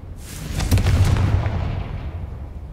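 A Confringo fire spell blast in Hogwarts Legacy, a single heavy explosive boom with a rumbling low-end impact that decays into a fading echo.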